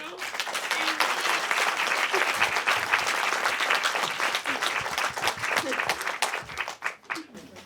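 Sustained applause from an audience at a film festival Q&A session, dense and steady clapping from many hands throughout, easing slightly toward the end.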